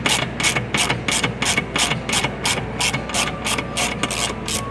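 A ratchet spins out a T27 Torx factory screw on a 2025 Mercedes G 550, giving a steady run of about a dozen crisp, evenly spaced clicks, close and fairly loud with no talking.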